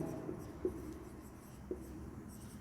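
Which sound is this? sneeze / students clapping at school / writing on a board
writing on a board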